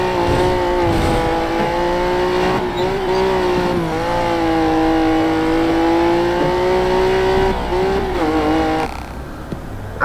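A Lancia rally car's engine drones loud and close in the Dirt 3 racing game, holding a steady high revving pitch that dips and climbs with gear changes before cutting off near the end.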